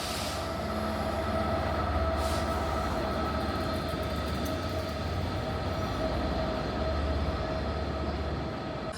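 Steady interior rumble of a Transport for Wales passenger train while riding in first class, a continuous low drone with faint rail hiss and occasional brief clatter, no voices.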